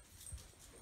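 A dog gives a brief, faint whimper in a home, a soft high whine with a low huff, heard close but quiet for under a second.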